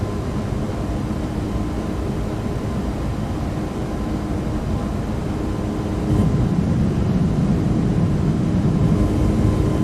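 A Toliss A321 airliner in X-Plane 12 climbing under climb power: a steady, loud jet engine drone with a low rumble and constant hum that grows slightly stronger partway through, with no speech.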